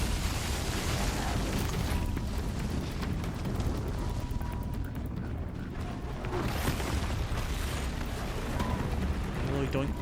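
Weapon fire and explosions in the video game Horizon Zero Dawn, a dense roaring wash of blasts and bursts with booming surges, loud and continuous, with a voice talking underneath.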